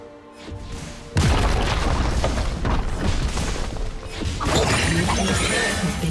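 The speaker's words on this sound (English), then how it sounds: "Blue team's turret has been destroyed." A turret is destroyed in a League of Legends match: a sudden heavy boom and crash, followed by several seconds of loud crumbling, clattering debris and game effects.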